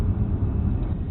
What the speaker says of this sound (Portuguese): o barulho que você está ouvindo aqui é o barulho do ar-condicionado